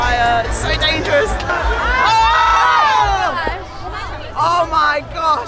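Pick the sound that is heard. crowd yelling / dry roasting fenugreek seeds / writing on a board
crowd yelling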